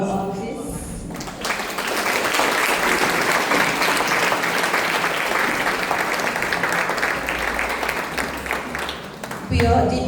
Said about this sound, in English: please give a round of applause for our artists.